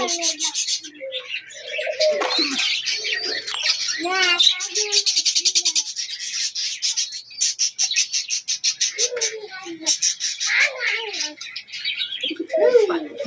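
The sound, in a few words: pigeons cooing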